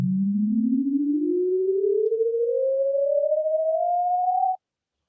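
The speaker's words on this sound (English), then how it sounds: "the sound you're hearing in pitch is going from low and constantly going up to a" A sonified diagonal straight line: a single pure tone gliding smoothly and steadily upward in pitch from low to higher, clean and alone, ending abruptly just before the close.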